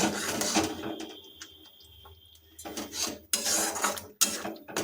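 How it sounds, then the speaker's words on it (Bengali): Spice paste of cashew, melon seed, poppy seed and raisin being stirred in a pan over a low flame for Bengali doi katla, with intermittent scraping and clinking of a spatula against metal, quieter in the middle stretch. "এটাকে এখন মিনিট পাঁচেক আরও লো ফ্লেমে কষিয়ে নেব"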